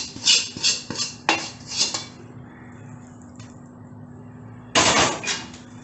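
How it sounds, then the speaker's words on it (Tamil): Mysore pak mixture made with ghee is poured and scraped from a metal vessel onto a ghee-greased plate, giving a few sharp metallic clinks and scrapes that come in quick clusters, then a pause, then another clatter. "இப்போ டக்குன்னு எடுத்து நம்ம இதில் கொட்டிடணும். நெய் தடவி வச்ச தட்டில்"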